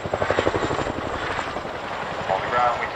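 Chinook twin-rotor helicopter flying at the RAF Cosford air show, a loud steady rotor beat and engine roar with a rhythmic chop early on, while a voice talks over it.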